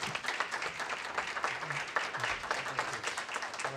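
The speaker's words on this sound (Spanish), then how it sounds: "Pido de parte de ustedes un aplauso para recibir al doctor Salvador Malo." An audience applauds to welcome a speaker at an education conference, steady dense clapping throughout, fairly even and moderately loud with no voices over it.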